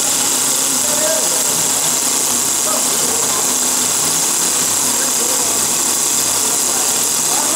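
A feed extruder machine runs continuously in a dense, loud mechanical drone with grinding texture, steady throughout with no pauses.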